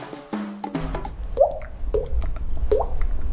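A person imitates water drops with the mouth, making three distinct, hollow, plopping pops spaced about half a second apart, close and fairly loud after a short bit of voice.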